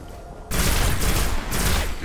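Burst of gunfire in the video game Destiny, a sudden loud volley that starts abruptly and continues as dense rapid shots with a brief dip before resuming.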